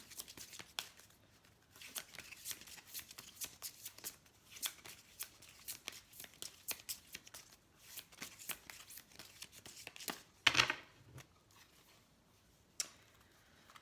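Oracle cards being shuffled by hand: a long run of soft, rapid riffling and sliding card sounds, fairly quiet and close, with a brief louder rustle near the end and no talking.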